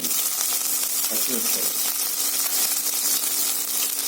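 Ginger, curry leaves and asafoetida hit hot oil in a small tempering pan, giving a steady, close sizzle with a brief burst of crackling partway through. No one talks.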